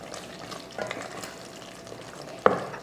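Goat head curry gravy being stirred in a pan, soft simmering sizzle with gentle scraping strokes and one sharp clack of the spoon near the end, close and without speech.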